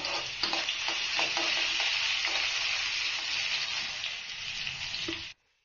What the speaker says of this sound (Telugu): నేను ఆనియన్స్ వేసుకుంటున్నాను ఆనియన్ ఒక రెండు నిమిషాలు ఆయిల్లో బాగా ఉడకాలండి